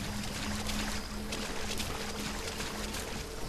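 A character swims through shallow water in Metal Gear Solid V: The Phantom Pain, with steady close splashing and churning water and a faint low hum underneath.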